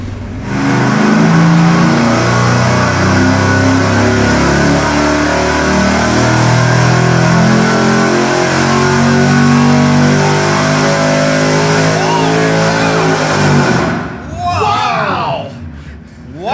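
Supercharged stock engine on a dyno with a 3.7 inch pulley and 18 pounds of boost, roaring loud and continuous through a long wide-open pull with rising and falling tones, then cutting off as the revs wind down at the end.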